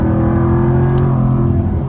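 A 2023 Jaguar F-Type P450 AWD drives at highway speed, its exhaust giving a loud, steady drone under load close up, with no talking.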